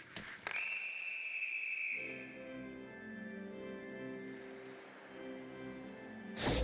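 A referee's whistle in the NHL 25 hockey video game between Tampa Bay Lightning and Ottawa Senators, a sharp sustained shrill blast followed by a softer droning tone, alone with no talk.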